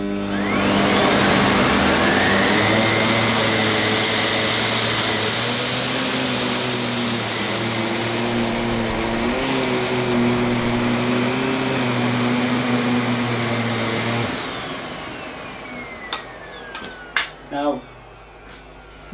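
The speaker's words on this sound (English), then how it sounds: "I'm now going to give you a brief demo of the carpet cleaning performance, but this time, of course, I'm going to have the electro brush turned on" A Miele Dynamic U1 Allergy upright vacuum with its electro brush on runs over a short-pile man-made fibre rug, a loud steady whining motor drone for about fourteen seconds before winding down, followed by a few sharp clicks.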